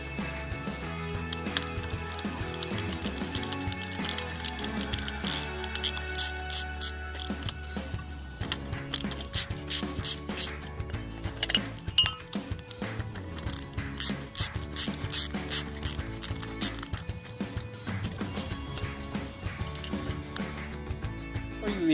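Small screws are backed out of the electrical cover on a pool pump, giving a long run of fine ratcheting clicks and metallic ticks that continue steadily and close up, with no talk.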